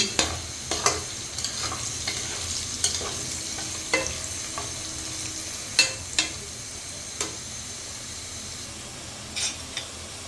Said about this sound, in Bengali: এই যে আমি আলুগুলো ভালো করে ভেজে নিচ্ছি